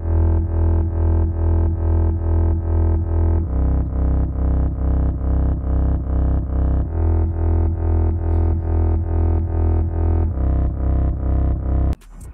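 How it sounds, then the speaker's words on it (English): Deep synth bass from a Serum preset bank called Dropout, shaped with EQ, in a beat loop: steady pulsing notes in a regular rhythm, loud and alone, shifting pitch every few seconds before stopping near the end. "this other synth bass that I added on the second part of the loop"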